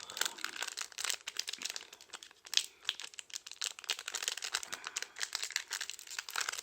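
A Yu-Gi-Oh Maximum Gold El Dorado booster pack wrapper crinkles and crumples steadily for several seconds, close and fairly loud, with dense rustling foil crackle and no voices.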